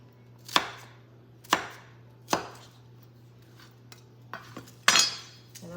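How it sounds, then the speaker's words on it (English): A knife chops onions on a cutting board in a home kitchen, with about six sharp, separate strikes spaced irregularly, close and clear over a low steady hum, with no talking. "I'm just gonna cut a little bit of onions."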